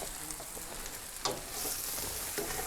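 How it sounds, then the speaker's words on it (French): Small apples flambéing in a kitchen pan, a steady hiss of sizzle and flame with a couple of short crackles and a brighter surge partway through, fairly quiet and close, no talking. "On va maintenant flamber les petites pommes."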